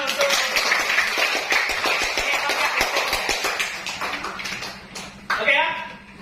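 A classroom full of students claps together, a dense patter of hand claps that runs steadily for several seconds, then tapers and briefly swells again near the end.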